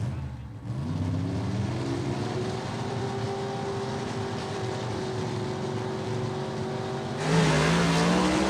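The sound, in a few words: gasser drag race cars racing down the dragway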